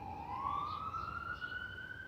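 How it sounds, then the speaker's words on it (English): Ambulances passing by outside, a single rising siren wail sweeping upward over about two seconds, moderately distant and fairly faint against background noise. "as the ambulances go by"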